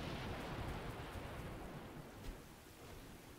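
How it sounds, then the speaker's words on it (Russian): Steady rainfall in the video game Windbound, a dense continuous hiss of falling rain with a faint low rumble, holding level throughout with no voices. "Ой, дождь начался."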